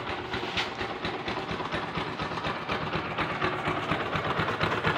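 A Kawasaki Rouser 135 LS motorcycle engine runs steadily with a weak cam chain tensioner spring, a dense rattling chatter over a continuous mechanical drone, heard close and without talk.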